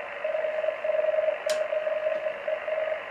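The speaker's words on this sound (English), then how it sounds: "You hear the multimode filter. That's the noise coming in." Radio band noise passed through an MFJ-781 multimode DSP filter: a steady hiss with a faint tone running through it, loud and continuous, and one brief click partway in.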